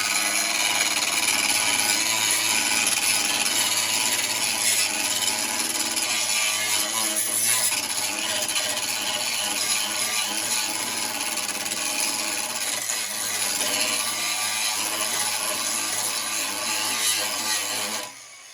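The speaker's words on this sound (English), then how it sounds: "I'm doing a little grinding and show you." Angle grinder cutting into metal, a loud, continuous harsh grinding and rasping that holds steady for the whole stretch before stopping abruptly at the end, with no voices.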